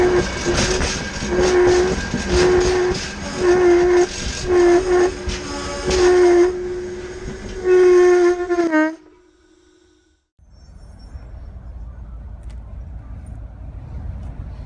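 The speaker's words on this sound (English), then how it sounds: "they're doing brake tests to figure out how long it really takes for uncoupled cars to stop" Uncoupled railroad cars roll along the track during brake tests, with loud grinding, squealing metal and sustained tonal screeches that cut off abruptly, followed by quieter low rumbling and ambient noise.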